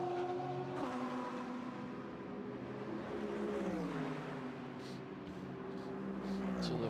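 A Ferrari GT race car runs on the Jeddah street circuit during practice, its engine note rising and falling through gear changes at moderate distance, with a commentator's voice talking over the steady drone.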